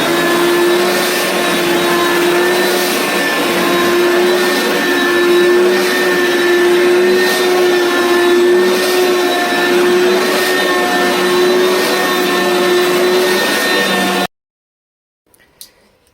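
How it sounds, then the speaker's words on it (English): A Bissell BGU 8000 upright vacuum cleaner runs with a steady, loud motor whine and a broadband roar that holds for about fourteen seconds, then cuts off, leaving faint handling clicks. "Next up, the Bissell BGU 8000."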